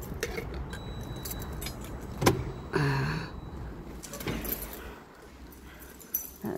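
Keys jangling at a workplace entrance, several short metallic rattles and clinks against quiet background noise, with a door-like thud in between.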